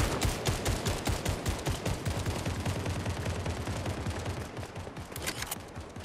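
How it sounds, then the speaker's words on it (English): Heavy gunfire in the video game Fortnite, dense rapid automatic bursts overlapping continuously and loud for the whole stretch, with no talk over it. "Hey, more gunfire over here."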